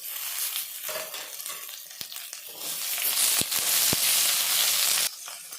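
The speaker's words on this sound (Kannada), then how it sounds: "ಈಗ ಕಟ್ ಮಾಡಿರೋ 2 ಈರುಳ್ಳಿನ ಸೇರಿಸ್ತಾ ಇದ್ದೀನಿ. ಅದೇ ಹಸಿಮೆಣಸಿನಕಾಯಿ ಟೊಮೆಟೊನು ಸೇರಿಸ್ತಾ ಇದ್ದೀನಿ." Chopped onions, green chillies and tomato sizzle in hot oil for a mutton curry, a steady broadband frying hiss with a few sharp stirring clicks, growing louder midway before easing off at the end.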